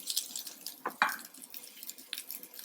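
Fenugreek greens stirred in a pan for methi sabzi, faint sizzling under soft scraping and a couple of sharper utensil clinks against the pan.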